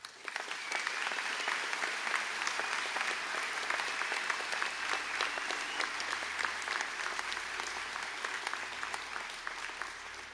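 An audience gives graduates a sustained round of applause at a college conferring ceremony, with dense, even clapping from a large crowd holding steady throughout and a few sharper claps near the front.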